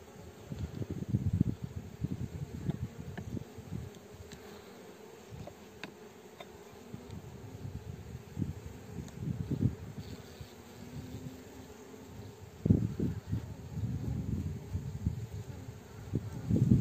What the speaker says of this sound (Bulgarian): Донеси пчелички да ги изследваме.